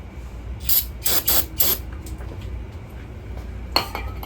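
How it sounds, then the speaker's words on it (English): Short hissing bursts from a spray can aimed at car parts on a Honda Civic EG during a brake and suspension job, three or four quick close sprays, then a pause and one more spritz. "spray this down, wipe it down."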